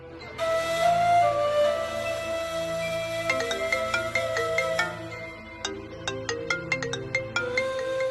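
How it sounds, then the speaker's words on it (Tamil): A mobile phone ringtone plays loudly in a Tamil TV drama scene, a bright repeating melodic tune that shifts into rapid plucked-note patterns, with no talking over it. "லதா தாங்க ஃபோன் பண்றாங்க."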